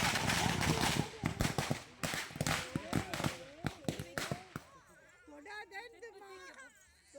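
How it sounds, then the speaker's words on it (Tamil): A rapid string of sharp firecracker pops crackles loudly at a village Mattu Pongal cattle festival, then thins into scattered bursts before fading under voices talking and a dog barking. "பின்னாடி இங்கே வெடிய வெடிக்கிறானா"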